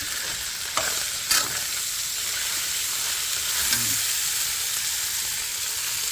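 Shallots and kaffir lime leaves frying and being stirred in a pan for a Thai fermented fish dish, a steady broadband sizzle with a couple of brief clinks from stirring, no talk.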